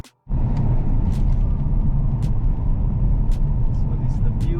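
A car descends a mountain road in Great Basin National Park, its engine and tyre rumble steady and close throughout, with faint clicks over the drone.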